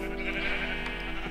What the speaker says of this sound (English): I will probably make the sheep a bit more quieter